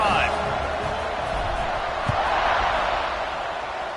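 Stadium crowd roaring steadily in College Football 26 during a Texas A&M versus Tennessee game, a dense continuous wash of cheering with a faint thud partway through.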